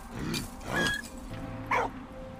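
Dog barking in the video game Valiant Hearts: a couple of short yipping barks and a whimpering note stand out over a game background, with no talking.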